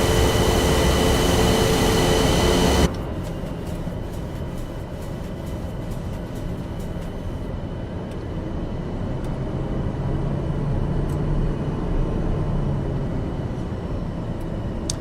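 A TBM 850 turboprop taxiing in the MSFS 2024 flight simulator, heard as a steady engine drone. It is loud for the first three seconds, then settles into a quieter continuous hum with no talk.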